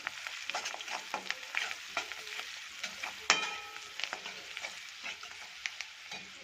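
Spiced tempering for curd rice stirred in a pan off the heat, a steady soft sizzle punctuated by repeated scraping clicks of the spoon against the metal, close and moderately loud with no talking.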